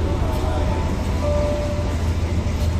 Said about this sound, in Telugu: రైలు వెళ్తుంది, రైలు వెళ్తుంది సూపర్గానే.